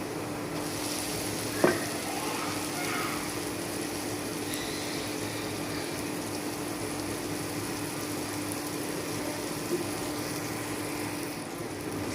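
Onion-garlic paste and masoor lentils fry in a pan with a constant, even hiss of sizzling oil and a single faint utensil clink early on.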